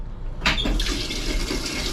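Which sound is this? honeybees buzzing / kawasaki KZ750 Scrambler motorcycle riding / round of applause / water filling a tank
water filling a tank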